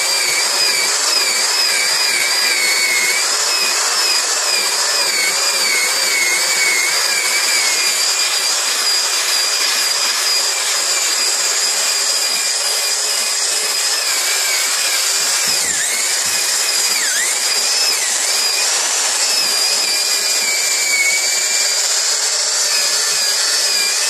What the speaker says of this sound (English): So what I've started using is this little ball grinder.